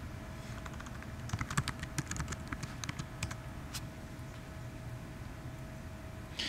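Password being typed on a computer keyboard to log in to Windows 10, a soft run of quick key clicks over the first few seconds, then near silence, faint and close, with no speech.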